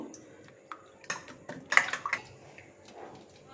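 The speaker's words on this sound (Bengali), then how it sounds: "দুটো ডিমের মধ্যে আমি একটু নুন দিয়ে ভালো করে ডিমটাকে একটু ফেটিয়ে নেব।" A fork or spoon clicking against a bowl while two eggs are beaten with a pinch of salt, close and sparse, a few quick taps with a denser burst midway, then quieter strokes.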